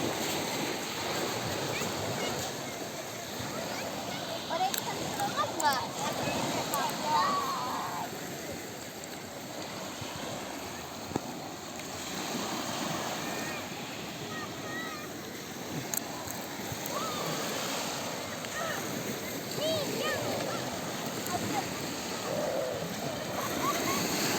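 Continuous wash of sea waves and surf with wind rumble, a steady outdoor roar with faint voices now and then underneath.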